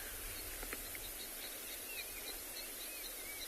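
A flock of birds in sparse grassland at sunrise calls with faint croaking notes, scattered and distant over a steady hiss of insects and ambient noise.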